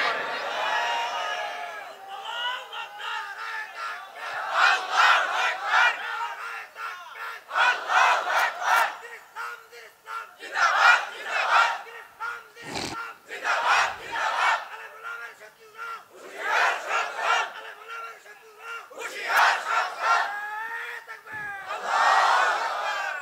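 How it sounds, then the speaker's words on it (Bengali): A large crowd at a religious gathering loudly shouts a takbir chant in repeated surging bursts, roughly every two seconds, with each collective cry rising and fading in call-and-response fashion. "একটা তাকবীর লাগান জোরে করে, দেখি কে পারেন।"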